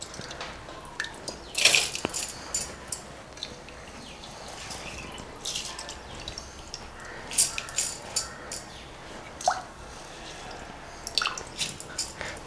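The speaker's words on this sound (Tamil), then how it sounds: "இப்போ இதை நம்ம வந்து ஒரு மிக்ஸி ஜாரில் மாற்றிக்கலாம்." Wet, soaked rice is scooped into a mixer jar, giving scattered squishy plops, drips and light clinks at irregular intervals, fairly close with no talk.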